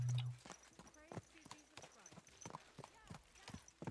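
Rhythmic hoofbeats of horses clip-clopping at a steady trot in a video game, with voices talking over them; fairly quiet overall.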